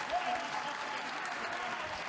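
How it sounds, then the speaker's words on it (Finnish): A crowd at a wrestling match for the FCF championship, a 30-minute endurance bout, shouts and cheers in a steady, dense roar that holds at the same loudness throughout. "Yleisön huutelu menee kun meneekin Semekan ihon alla."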